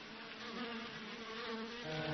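Chinese honeybees in Shennongjia swarm around their queens, making a faint, continuous drone of many wings that hums evenly with no voices.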